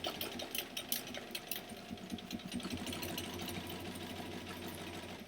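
A sewing machine stitching a bag runs steadily and close throughout, a continuous rapid mechanical whir with no talking over it.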